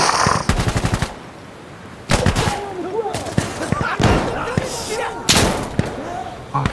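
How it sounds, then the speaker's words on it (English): Automatic gunfire in the Insurgency Sandstorm video game, rapid bursts and single loud shots cracking in clusters with quieter gaps between, close and intense, with a person talking over the firefight. "who's shooting at me?"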